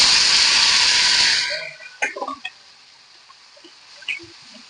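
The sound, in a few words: snakehead fish frying in oil in a wok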